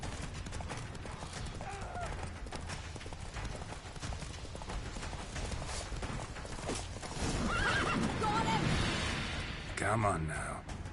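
Roach, the horse from The Witcher 3 game, gallops with steady clip-clop hoofbeats and lets out a couple of whinnies near the end, all beneath a layer of game music and background voices.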